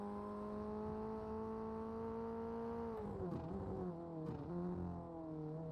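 A Formula Ford race car engine holds a steady high whine, then stumbles and wavers through several rough shifts as a gear shift problem sets in. The sound is heard on board, with no talk.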